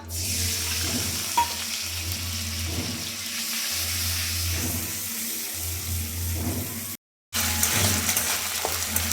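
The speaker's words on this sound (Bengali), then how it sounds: "আদা খুব ভালোভাবে আমার কষানো হয়ে গেছে" Ginger paste frying in oil with cumin seeds and bay leaves for a mixed vegetable dal: a continuous soft sizzle with periodic scraping from stirring, interrupted by a brief gap.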